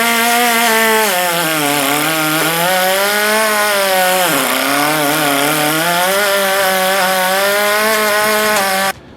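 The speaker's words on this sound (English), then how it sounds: "I'm going to take the DA with an 80 grit and try and scuff it up some" Dual-action (DA) sander fitted with 80-grit paper scuffing the body of a 1974 Oldsmobile Cutlass before priming: a loud, continuous droning whir that rises and falls slightly in pitch as pressure changes, close up, stopping abruptly at the end.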